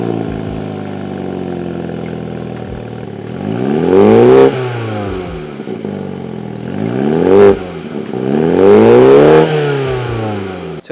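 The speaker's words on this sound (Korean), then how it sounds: "배기구를 보시면 이 배기구 팁도 훨씬 더 JCW가 큽니다. 좀 더 우렁찬 소리를 들려주고요." Exhaust of a 231-horsepower Mini Cooper JCW 3-door revs hard twice from a rough idle, each sharp rise climbing to a loud roar before dropping back, heard up close with no talking.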